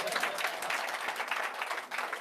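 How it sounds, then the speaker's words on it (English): Dense, continuous applause from a theater audience after a mentalism act, many hands clapping at once in a full, sustained wash of sound. "Give him a round of applause."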